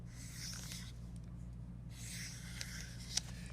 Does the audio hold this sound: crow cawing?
no